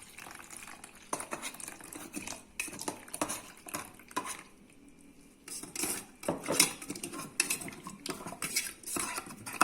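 A spoon stirs a salep mixture of starch, vanilla and cold milk in a pot, clinking against the sides in quick, uneven bursts with a short pause midway; close and moderately loud.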